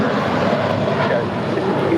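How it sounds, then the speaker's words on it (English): JetBlue airliner departing Los Angeles for New York, a steady broad engine roar holding at even loudness for two seconds, close and continuous with no voices over it. "That is JetBlue 1124 departing to New York."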